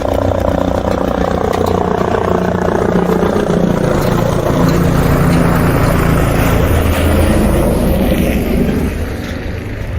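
A helicopter's rotor beats with a loud, rhythmic thumping and engine drone in the Himalayan mountains at Kedarnath, close by and continuous, fading slightly at the end.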